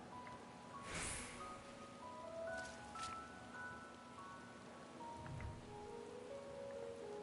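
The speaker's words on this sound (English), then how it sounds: "I just decided to make it rain." Steady rain falls in Final Fantasy 14, a soft wash of drops on the ground under faint in-game music tones, with one brief, louder rustle early on.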